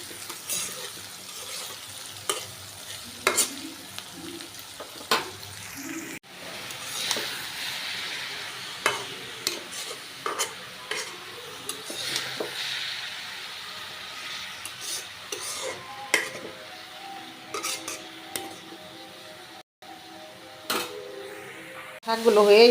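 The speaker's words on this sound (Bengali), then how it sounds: "এই যে শাকটা ভালো করে বেশি করে লাড়াচাড়া দিতে হইব যাতে পোড়া না লাগে" Kolui saag greens fry in a pan while a spatula stirs and scrapes them steadily, with soft sizzling underneath and intermittent clicks of utensil against metal, close and moderately loud throughout.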